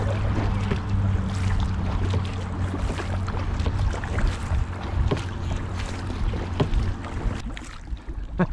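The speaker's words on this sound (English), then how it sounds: "It's good paddling, buddy." A kayak paddles across water with steady soft splashes and dips of the paddle over a low continuous hum and light wind, with no talking.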